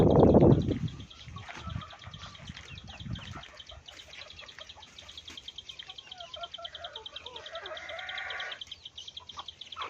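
Chickens cluck softly in the background with scattered bird chirps, after a brief loud rustle at the start; no talking.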